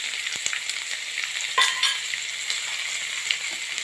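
Five or six split garlic cloves sizzle steadily in hot oil with popped mustard and cumin seeds and a pinch of asafoetida, the base for a cauliflower and tomato curry. The frying is loud and continuous with a few brief crackles and no talking.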